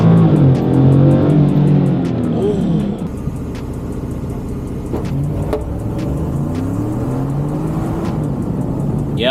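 A Ford F-150 single cab pickup launching hard, its engine roaring loud and close with a steady rising drone that eases slightly after a few seconds and runs continuously to the end.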